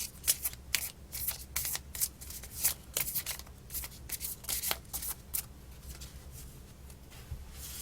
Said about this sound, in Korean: 추가 카드 한번 뽑아 볼게요.